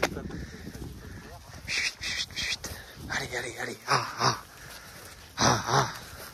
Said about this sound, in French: Et maintenant, c'est les chèvres qui vont aller de l'autre côté.